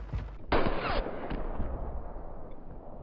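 A sharp, loud sniper rifle shot in the game Warzone cracks out with a booming tail, followed by fainter echoing reports and rumble fading over a few seconds.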